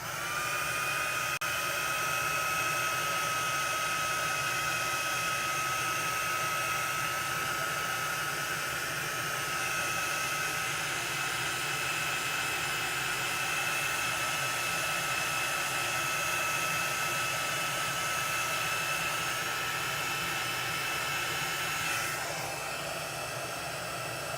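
A hair dryer blows steadily on chalk paste, a loud continuous whine with a rushing airflow hiss and no breaks, no voices.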